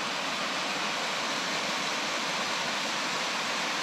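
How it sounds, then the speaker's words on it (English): Mima Falls in Capital State Forest roars as a steady, dense wash of falling water, heard from a distance with no talk over it. "At least we saw it, the Mima waterfall."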